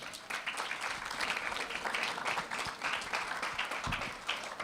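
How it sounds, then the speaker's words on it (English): An audience at a STEM festival launch event claps after a speech, a lively burst of many hands with uneven swells, fairly close and filling the room. "Keep the applause going."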